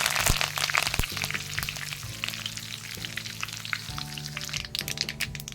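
Curry leaves dropped into hot oil for a Kerala country-chicken pirattu sizzle and crackle close by, a dense, steady frying hiss with scattered sharp pops throughout.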